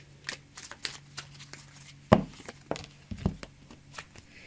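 Message cards being shuffled by hand, a series of soft riffling and slapping bursts with a couple of sharper thuds in between, quiet and close.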